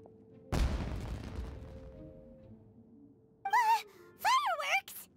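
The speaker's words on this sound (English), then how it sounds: "It sounded like fireworks." A loud blast of exploding fireworks in an animated adventure scene: one sharp booming burst that rolls off over a couple of seconds, followed by high, squeaky chirping vocal sounds.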